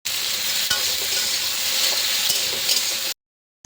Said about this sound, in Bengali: কচুগুলো প্রায় এই যে লাল লাল করে ভাজা হয়ে গেছে।